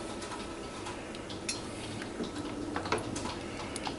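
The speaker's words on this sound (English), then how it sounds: "So what you want to do is just get this nicely stirred in." A spoon stirs chili-lime jelly in a pot, giving light scraping and occasional clinks against the metal at an irregular pace, fairly quiet and with no voice over it.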